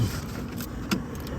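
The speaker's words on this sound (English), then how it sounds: "I'll start this car up for you" A 1970 Chevrolet Chevelle Super Sport convertible, restored, cranks and starts, its engine settling into a steady, close, continuous rumble with no talking.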